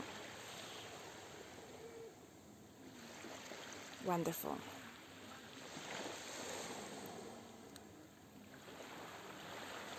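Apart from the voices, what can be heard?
ocean waves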